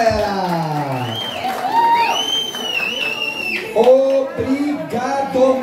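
A crowd at a running race awards ceremony in Artur Nogueira cheers and whoops, voices rising in a lively mass with some clapping, while a nearby voice talks over it.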